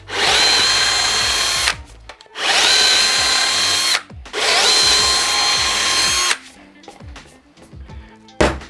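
A power drill drives M6 screws to fix a box onto an electric mountainboard, with three loud, sustained whirring bursts separated by short pauses and then quieter handling clatter.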